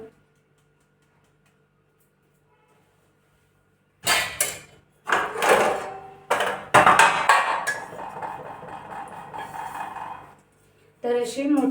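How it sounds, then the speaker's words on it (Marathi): Gram flour (besan) sifted through a sieve for besan barfi, heard as clattering metallic knocks and rattles in uneven bursts after several seconds of silence, close and fairly loud. "छान असं चाळून घ्यायचं"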